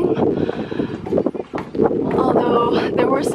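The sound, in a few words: strong gusts of wind on Mount Fuji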